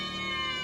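A cat gives a single drawn-out, steady meow, close and clear, with nothing else heard around it.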